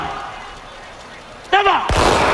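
A ceremonial gun fires at Singapore's National Day Parade 2003, a sudden loud boom at the end that follows a shouted command, with crowd and parade noise underneath.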